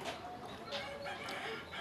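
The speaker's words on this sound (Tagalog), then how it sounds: "Itong mga manok namin ay asil at shamo ang lahi" Asil and Shamo roosters crow in a farmyard, a few strained crows rising and falling over soft background clucking at moderate distance.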